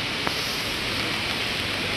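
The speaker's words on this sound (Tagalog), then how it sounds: "Umuulan pa rin." Continuous rain hisses evenly while descending Kamay ni Hesus, a dense wash of falling water with one brief tap near the start.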